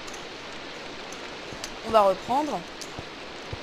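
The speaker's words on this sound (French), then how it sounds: "vous entendez derrière moi, il pleut, il y a de l'orage et tout" Steady rain falling outside during a thunderstorm, a constant soft hiss with scattered drops, while someone speaks briefly over it.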